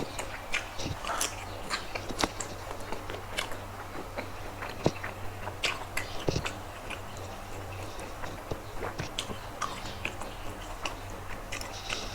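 Someone eats rice with a curry of small freshwater snails and cha-plu leaves, close and steady, with repeated soft chewing, smacking and crunchy bites and occasional sharp clicks of utensils over a low background hum.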